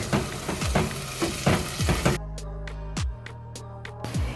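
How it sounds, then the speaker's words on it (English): Brinjal curry frying in a pan is stirred with repeated scraping strokes over a crackling sizzle, which then gives way to a quieter steady fry with a few light taps. "Give it a nice stir."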